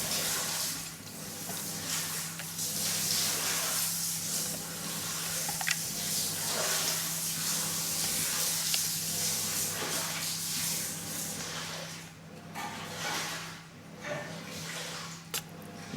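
Boiling hot water, with an apple dipped into it, gives a continuous soft hiss and wash of bubbling, steady and close, with faint splashy pulses and a low hum underneath.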